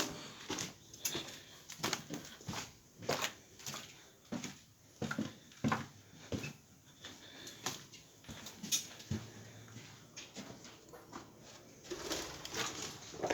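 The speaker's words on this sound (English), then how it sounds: "Pigeons." Pigeons inside an abandoned office block give soft coos and fluttering bursts in irregular clusters, faint and somewhat distant in a quiet, echoing space.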